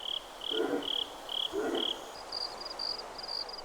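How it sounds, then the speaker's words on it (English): Crickets chirp in the Stalker 2 game world as a steady series of high pulsing trills that shift pitch partway through. Two soft, low croaks sound in the background over a quiet ambience. "let's try to enjoy the peaceful creatures in this game world, such as the crickets"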